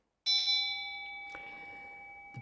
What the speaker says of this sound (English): The bell sound wide resounds Throughout 100 million worlds